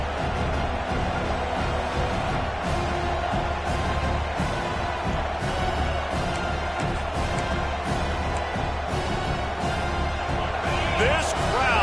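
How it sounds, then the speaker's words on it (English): A roaring football stadium crowd at a Wisconsin versus Utah game keeps up a loud, sustained cheer, and a commentator talks over it. "This crowd, full throat, spreading the eardrums"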